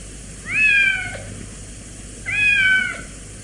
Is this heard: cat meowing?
yes